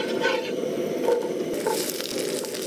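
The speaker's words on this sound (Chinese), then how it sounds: "锅里下黄油，油了下牛排" Steak sizzles in melted butter in a hot pan, a steady, close, dense crackle that runs the whole time with small spits and pops and no talking.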